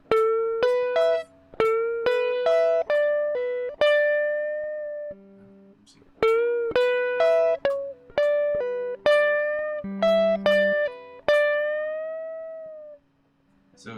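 Slow guitar exercise played without a metronome: two phrases of plucked single notes at an unhurried, uneven pace, each note ringing bright and close, with a long held note closing each phrase.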